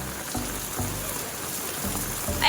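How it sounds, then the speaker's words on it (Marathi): Steady patter of monsoon rain falling nearby in Badlapur, a dense wash of droplets with a few low thumps underneath. "मित्रांनो पाऊस पडलाय"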